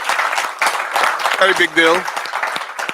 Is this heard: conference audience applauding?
yes